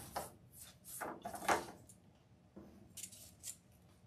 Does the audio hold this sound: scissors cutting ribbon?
yes